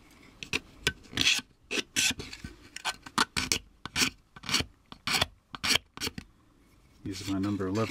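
A hobby blade scraping seam lines off a 1/24 scale DeLorean slot car body, producing a steady run of short rasping strokes, close and crisp, ending in a longer rough rubbing sound.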